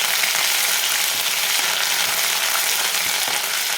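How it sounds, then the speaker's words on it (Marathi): Ginger garlic paste sizzles and fries in hot oil with a dense, steady crackle and spatter, loud and close throughout without pause. "आले लसणाची पेस्ट करून घेतली होती ते टाकून घेऊ"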